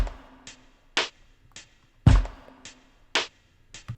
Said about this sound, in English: Next there's this drum loop